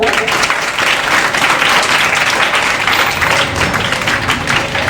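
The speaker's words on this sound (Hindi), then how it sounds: "जोर से ताली बजाओ" Schoolchildren clap loudly and continuously, a dense, steady burst of applause filling the whole stretch.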